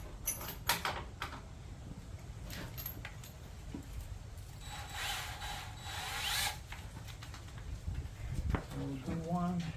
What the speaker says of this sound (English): Let me drill those 2 holes while I remember.